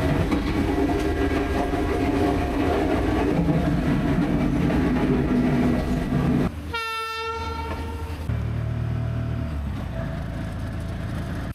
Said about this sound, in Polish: Przyjechaliśmy pociągiem na stację.